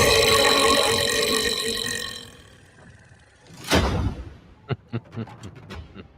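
An ogre in a Total War: Warhammer trailer lets out a long, loud, guttural burp that rises to a harsh blast, followed by a few sharp knocks and clatters.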